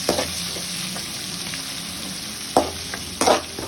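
Shallots sautéing in a pan for chicken curry, a steady soft sizzle with occasional stirring scrapes and two louder clatters near the end, no talking.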